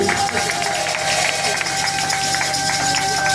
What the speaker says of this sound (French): Applaudissez, applaudissez pour la gloire de Dieu, applaudissez